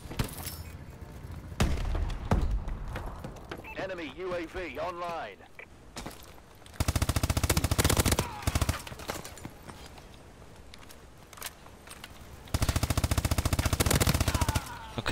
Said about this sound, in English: Fired at least 25 rounds into that enemy.